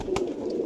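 A pigeon gives one brief, soft, low coo, fairly close and heard alone against quiet background hiss.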